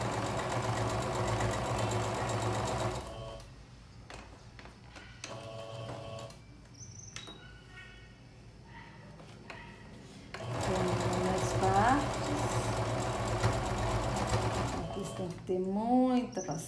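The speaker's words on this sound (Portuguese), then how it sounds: "Aqui eu tô dando uma costurinha na largura do pé da máquina, tá?" Sewing machine running along patchwork fabric for an appliqué pumpkin kitchen set, a steady close mechanical whir in two long bursts with a quieter pause between, and a voice speaking over parts of it.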